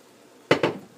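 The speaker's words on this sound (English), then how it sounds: "And then I take a fork and I even it out, stirring it all up." A fork clinks twice against a dish while soy sauce is stirred, two quick close metallic taps about a tenth of a second apart.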